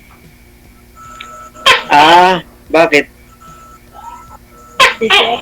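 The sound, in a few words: tokay gecko calling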